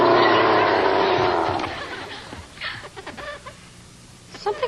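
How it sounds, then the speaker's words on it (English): A cartoon chicken clucks in a burst of squawky calls that fade after the first two seconds, followed by scattered softer clucks and rustling. "Dougie, what are you doing with that chicken? It's my attack chicken"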